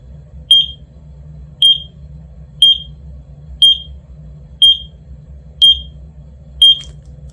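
A carbon monoxide alarm gives a piercing, high-pitched electronic beep about once a second, seven short chirps in a steady rhythm over a low background hum.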